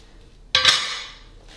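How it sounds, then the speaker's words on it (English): A single sharp metallic clank of a heavy pan rings out close by, then fades over about a second. "This is a really big frying pan."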